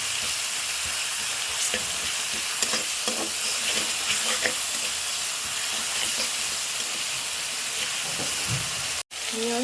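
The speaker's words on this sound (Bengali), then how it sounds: "এবার আমি মাছটা মাছ আর মশলা কষাই নেব।" Fish and spice masala stir-fried in oil in a pan, a steady loud sizzle with repeated stirring scrapes and clatters, broken by a brief cut near the end.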